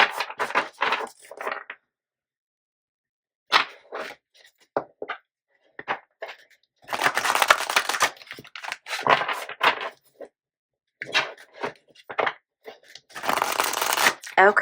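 Oracle cards being shuffled by hand, bursts of crisp riffling and slapping cardstock in several runs separated by brief pauses, close and fairly loud with no talking.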